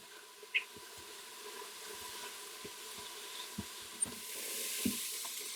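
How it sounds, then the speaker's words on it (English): Garlic and mushrooms sizzle softly in a multicooker as they are stirred, a faint steady hiss broken by occasional light spoon scrapes and taps. "I'm going to add in my garlic and just give that a quick stir around"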